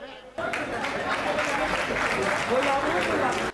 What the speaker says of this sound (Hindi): ताली तो अब इस बात पे बजा देना